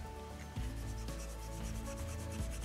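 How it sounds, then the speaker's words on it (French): A pencil line being rubbed out with an eraser on card stock for a handmade mirror greeting card, giving a continuous close scrubbing friction with no voices. "gommer"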